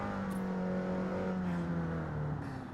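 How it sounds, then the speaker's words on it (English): In the racing game Gran Turismo 7, a car engine hums and revs steadily close by, a continuous droning whir that stays fairly quiet with no talk over it. "Sound of this game is great. Like, the positional sound, I can really hear the engine behind my head."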